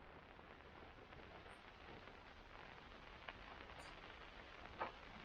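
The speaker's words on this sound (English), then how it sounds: "It's a rainy day here today" Steady rain falls outside a carport greenhouse being readied for winter, a dense even hiss with a few louder drips near the end, with no voices.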